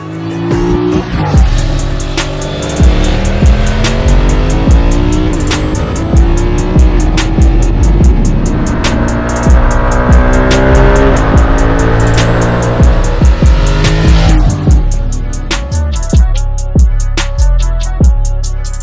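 A BMW F900R motorcycle with an 895cc parallel twin is ridden hard, its engine loud and close as it revs up and down through the gears, with wind rush and sharp shifts near the end.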